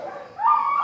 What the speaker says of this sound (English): So, his bark's not aggressive.